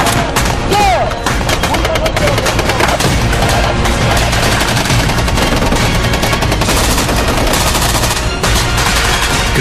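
Army night combat training at KCTC, with dense, sustained bursts of gunfire and rattling machine-gun fire filling the scene without pause, loud and continuous.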